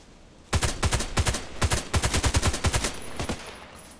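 Rapid bursts of HK 417D assault rifle fire in a first-person shooter: about fifteen loud, close, sharp reports in quick uneven clusters, fading into a faint ringing tail after the last shots.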